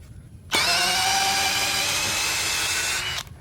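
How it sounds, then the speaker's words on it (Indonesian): A DCK KDJZ23-10i 12V brushless cordless drill runs a 12 mm bit through wood in one loud, steady burst of about three seconds, starting and stopping sharply. "Mata bor 12 mm masuk secara sempurna."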